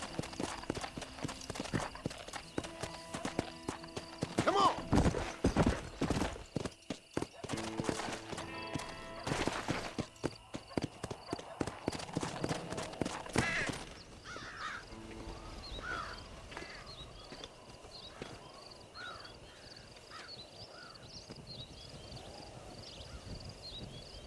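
Horse hooves clip-clop across the ground in the Western video game Red Dead Redemption, loud and fairly steady over busy game sound with some birds and a whinny, then softer and sparser after the middle.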